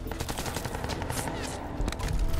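Pistol shots ring out in the video game Crysis 2, a rapid series of sharp, punchy cracks repeating close and loud over a busy background of combat noise.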